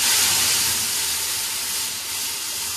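Whole spices hit hot oil for a dal tempering and give a loud, broad, steady sizzling hiss that slowly eases off, close up, with no voices.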